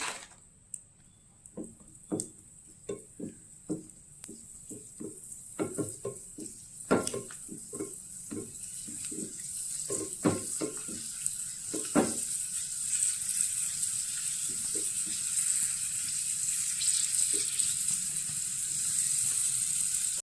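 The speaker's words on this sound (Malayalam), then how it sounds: "ഇനി കുറച്ച് അണ്ടിപ്പരിപ്പും കിസ്മിസും വറുത്തെടുക്കുക." Raisins fry in hot ghee in a pan, a steady high sizzle running throughout with scattered clinks and scrapes of a spoon stirring, the frying growing denser toward the end.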